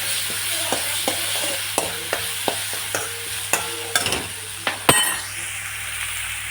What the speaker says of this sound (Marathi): एका साईडला टाकून पडेल हिंग, चांगलं फ्राय करून घेऊ.